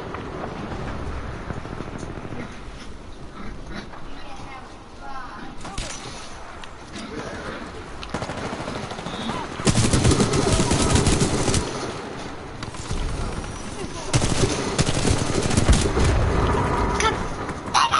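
Gunfire from a gun in the video game Titanfall, with dense bursts of shots mixed with explosions and game noise, growing louder and heavier in the second half.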